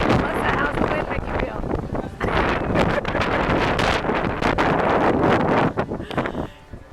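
Strong wind buffets the microphone outdoors in Edinburgh, a loud, continuous roaring rumble with gusty surges throughout, while people talk over it.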